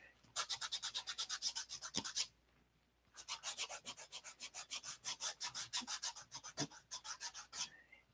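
Sanding cured CA glue off fingertips with sandpaper: rapid rhythmic back-and-forth rasping strokes, close and loud, in two bursts separated by a brief pause.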